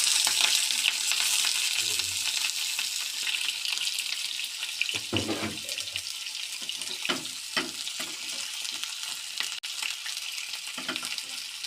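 Four pieces of tuna fish frying lightly in a pan with tomato and vegetables, a dense continuous sizzle with scattered scraping and clattering spatula strokes, loud and close, with no talk.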